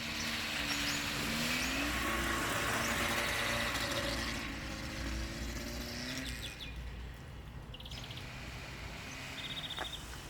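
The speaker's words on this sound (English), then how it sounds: "we were heading home along our favorite forest road. The trail felt perfect today, and our off-road rig was loving every bump" An off-road rig drives along a bumpy forest road, its engine a steady continuous rumble with birds chirping faintly around it and no talk.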